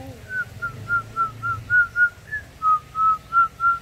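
A pet bird whistles a run of about a dozen short, clear, evenly spaced notes, steady and close, over a faint low background murmur.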